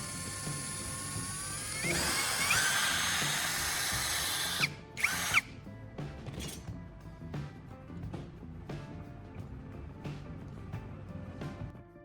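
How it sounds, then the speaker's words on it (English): A small power drill bores holes into PVC pipe, whirring steadily up close, then briefly pausing before a run of short, repeated drilling bursts with rattling mechanical clicks. "I'm drilling 2 small holes into the PVC pipe."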